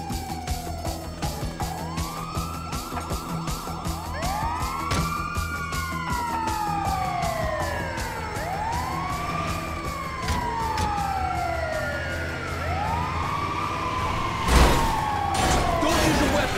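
A wailing emergency siren from an ambulance in Grand Theft Auto 5 sweeps up and down in repeated cycles for the whole stretch, loud and steady under game engine noise, with a brief thump near the end.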